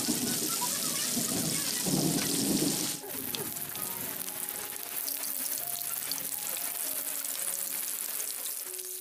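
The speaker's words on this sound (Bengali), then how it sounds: "এখন এক এক করে সবগুলো মাছ খুব সুন্দরভাবে ভাজি করে নেবে" Fish fry in soybean oil in a pan with a steady crackling sizzle. A clattering burst comes before it settles, and someone talks quietly over the frying.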